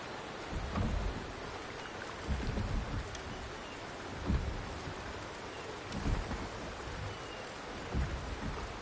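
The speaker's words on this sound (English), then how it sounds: "The rain is subsiding," Steady rain pours in a stormy scene from the video game Wuthering Waves, with low rumbles of thunder rolling in at intervals beneath the constant hiss of the downpour.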